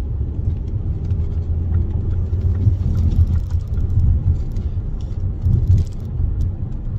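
A Ford Mondeo 2.5 turbo Ghia with 220 horsepower rolls through congested city traffic, its engine a steady low rumble throughout with faint ticks and road noise overhead.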